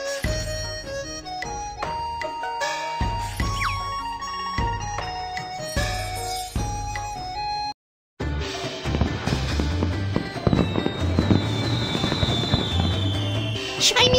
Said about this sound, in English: There are so many fireworks!